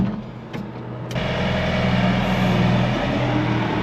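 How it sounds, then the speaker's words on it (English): A lorry pulls up to be loaded with wheat on a farm. Its heavy diesel engine rumbles nearby and swells louder after about a second, then holds a steady drone with no talking. "This is the same lorry as last time."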